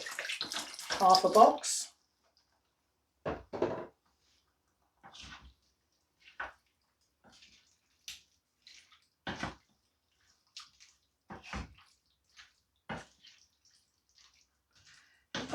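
Water pours and splashes into a cooking pot of chilli in short bursts amid quiet kitchen handling sounds, with a brief spoken remark near the start.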